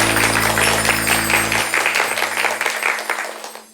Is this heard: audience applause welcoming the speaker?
yes